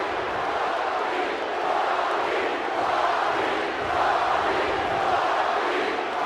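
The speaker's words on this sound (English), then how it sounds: "The crowd cutting AM off with Rocky chants." A video game wrestling arena crowd in WWE 2K18 chanting for the Rock, a dense roar of many voices swelling rhythmically in repeated waves, distant and continuous with no commentary over it.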